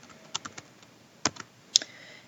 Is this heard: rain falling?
no